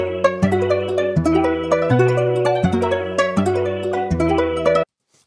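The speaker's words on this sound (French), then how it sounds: "c'est que j'ai pris la loop et je l'ai accélérée x2. Avec un tempo vraiment élevé. Et aussi, je l'ai mis un peu plus aigu." A music loop played back at double tempo and pitched higher, bright repeating melodic notes over a pulsing low bass pattern, dense and upbeat, stopping abruptly near the end.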